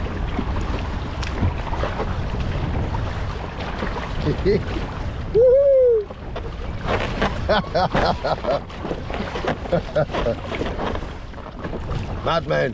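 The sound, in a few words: waves splashing against kayak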